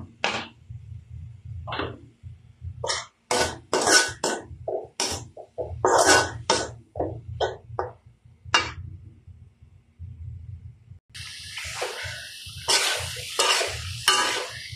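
A fish frying in a pan with turmeric, chilli, salt and mixed spices sizzles in short bursts while a utensil stirs and scrapes. Near the end the sizzle swells into a sustained hiss.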